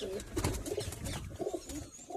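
An old pigeon coos in soft, repeated throaty phrases close by, a low rhythmic burbling that rises and falls over a faint background hiss.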